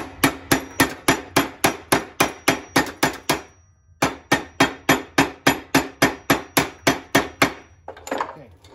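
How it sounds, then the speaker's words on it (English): A small ball peen hammer strikes metal resting on the anvil portion of a vise in a quick, evenly spaced run of sharp ringing blows, two bursts of about fifteen hits separated by a short pause, close and loud. "Then I take a ball peen hammer, and I use a small one"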